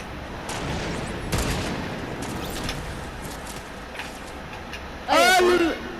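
Sniper rifle shots crack in Operation K.O., a few sharp reports scattered over game ambience, followed near the end by a loud burst of rapid mechanical effects, with players talking throughout.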